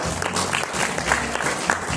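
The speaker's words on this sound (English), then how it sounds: "Please give a big round of applause for them." Audience at a school awards function cheering dance students with a short burst of dense, lively applause and some crowd noise.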